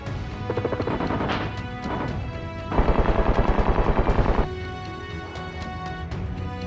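Rapid automatic gunfire in the survival video game SCUM during a raid, loud dense bursts with a sustained rattling stretch in the middle and scattered shots around it.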